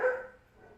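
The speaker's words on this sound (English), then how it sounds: "Sorry about the dogs again." A single short dog bark rings out at moderate distance and fades quickly into a quiet room.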